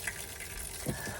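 Steady running water from a tap while a face is washed at a sink, a continuous even hiss close by with no voices over it.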